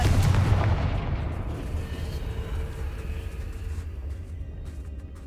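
A Confringo blast spell in Hogwarts Legacy detonates with a heavy boom at the start, then the rumble decays slowly into a low lingering roar, with no voices.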